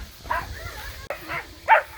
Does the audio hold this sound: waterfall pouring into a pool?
no